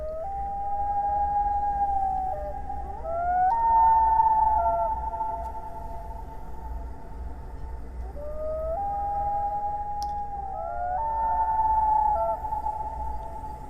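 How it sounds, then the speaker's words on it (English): A loon's long, wavering wail-like calls rise and fall in pitch, repeating several times over a steady low background rumble, with no voices. "let me leave you with the call of the loon"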